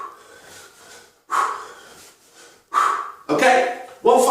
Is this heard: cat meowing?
no